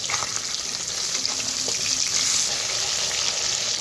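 Koi fish turned over in a pan of hot oil, a loud continuous frying hiss with faint scraping of the spatula against the pan.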